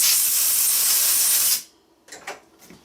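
Compressed air blasts out a cable end on a Kubota K008 mini excavator being repaired: a loud, steady hiss that holds for about a second and a half, then cuts off, followed by a few faint clicks and rustles.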